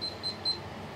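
A kitchen timer set while cooking pasta beeps three times in a quick, evenly spaced run of high electronic tones, faint against quiet room noise.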